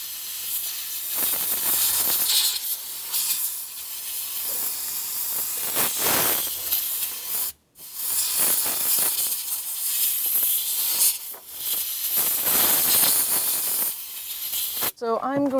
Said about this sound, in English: I'm just going to get my blowgun, clean this up.